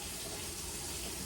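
Hot water pours from a tap in a steady, loud, close rush of broadband hiss with no pauses and no voices.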